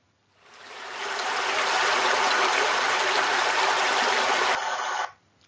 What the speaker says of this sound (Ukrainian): Це гірська річка.